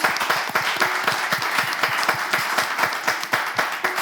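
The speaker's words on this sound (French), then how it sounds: "On applaudit notre candidate" An audience claps for a 12-year-old school contestant at a televised show, a dense, even patter of many hands with a few sharper individual claps standing out, fairly close and sustained.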